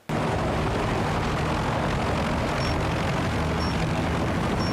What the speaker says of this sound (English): So you get back into the helicopter and continue.